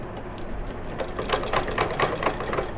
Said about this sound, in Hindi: इसको फोल्ड करूंगी और इस पर मैं दाब सिलाई चलाऊंगी।